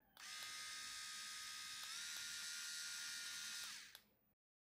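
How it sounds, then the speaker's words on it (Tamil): An electric callus remover with a roller head runs steadily at a high, whining buzz for about four seconds, then switches off. There is no talking. "இந்த கேலஸ் ரிமூவர்ல ஸ்பீட் செட்டிங்ஸ் 2 இருக்கு"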